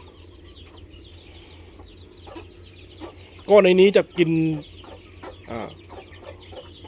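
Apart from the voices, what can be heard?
chicks clucking in a pen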